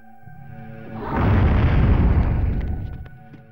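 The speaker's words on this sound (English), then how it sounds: "The effects can often be harsh though, with explosions and gunfire overwhelming everything else" A deep, rumbling explosion from The Fifth Element video game on PlayStation 1, swelling to a loud roar and slowly fading, with a few faint pops near the end.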